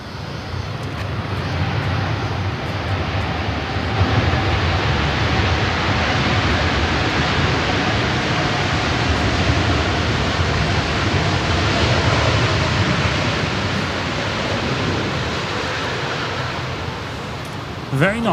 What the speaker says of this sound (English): Always love watching them land, eh? 777s, they just, gee, they're a great aircraft.